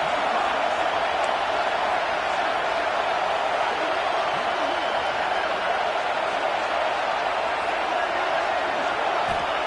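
Football stadium crowd at Saban Field during a college game on third down, a constant broad roar of noise sustained evenly across the whole stretch without letting up.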